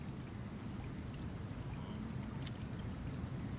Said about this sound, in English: I'm gonna risk it and go down this waterfall.